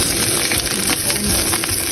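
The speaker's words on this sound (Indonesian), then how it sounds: "terus kita masukkan ikannya, kita goreng ya" Fish and ginger frying together in a pan for fish soup, giving a steady, close, dense sizzle throughout with no voices.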